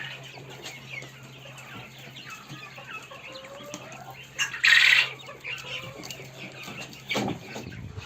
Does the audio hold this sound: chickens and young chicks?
yes